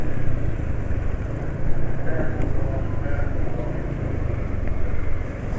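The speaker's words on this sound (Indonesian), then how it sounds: "Ini suara mesin wis kasar ini." A motorcycle engine idles with a rough, uneven rumble on worn-out oil, steady and close throughout with no other sounds.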